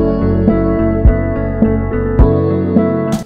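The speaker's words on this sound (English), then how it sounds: "I like to add a filter onto the drums, kind of give it that underwater feel." Muffled drum beat with a low-pass filter cutting away the highs, dull thuds and a steady pulse sounding distant and submerged, playing alone.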